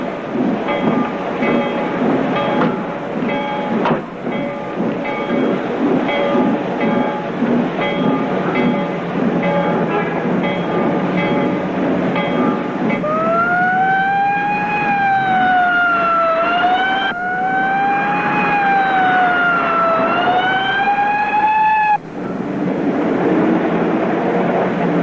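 A train rolls in loudly with a heavy steady rumble, then a sliding, wavering whistle or horn sounds repeatedly over the din before it cuts off.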